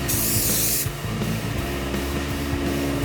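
Red paint hisses steadily from a spray can onto model wings outdoors, a continuous close spray that sounds brighter for the first second and then softens.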